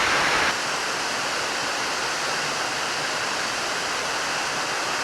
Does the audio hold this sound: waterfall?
yes